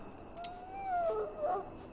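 A dog in a video game lets out a single faint, wavering howl that rises and falls over about a second, close and alone.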